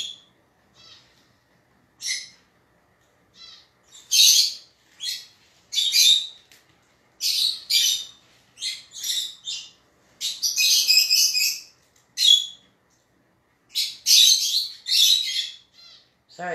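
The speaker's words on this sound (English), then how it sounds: "I got lovebirds and finch. And they are being pretty vocal right now." Pet lovebirds and finches chirp indoors in scattered bursts of sharp, high tweets and squawks, close and fairly loud, with short quiet gaps between calls and no talking.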